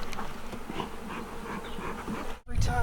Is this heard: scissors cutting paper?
no